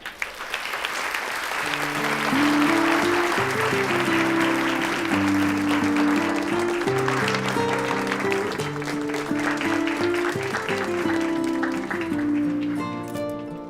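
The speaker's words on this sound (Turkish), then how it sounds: "Şimdi sahneye alkışlarınızla Nilay Ünal'ı davet ediyorum" An audience applauds steadily as a guest is invited onto a stage, with the clapping filling the room under a bright musical accompaniment.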